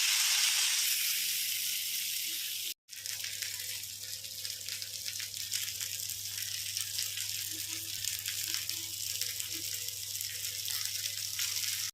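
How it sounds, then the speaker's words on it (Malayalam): Fish shallow-fries in a well-heated pan with a steady, quiet sizzle and hiss that stops for an instant and then carries on evenly, with no talking. "ചട്ടി നന്നായി ചൂടായിട്ടുണ്ട്. ഇനി നമുക്ക് ഫിഷിനെ വെച്ചെടുക്കാം."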